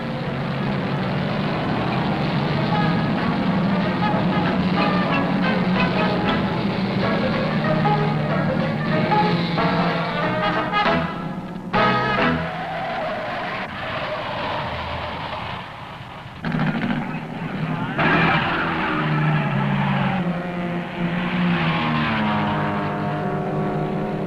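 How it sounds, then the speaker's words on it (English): Race cars in a 1967 sports car event sweep through a tight turn at Laguna Seca, several engines snarling and rising in pitch as the pack passes, loud and continuous with short dips and no talking. "like negotiating a tight turn with 20 others at Laguna Seca."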